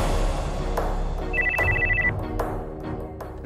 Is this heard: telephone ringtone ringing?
yes